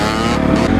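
A 2012 Honda CRF450 dirt bike engine runs steadily and loud up close, a dense rough idle with slight flutters, no voices over it.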